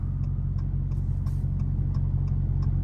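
A Dodge Hellcat's engine rumbles loud and close, a steady low throbbing drone with a faint repeating tick riding over it.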